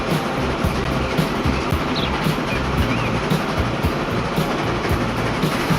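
Steam train running along the track in the Transport Fever 2 game, a steady rumbling roll with faint repeating clacks, continuous and fairly loud throughout.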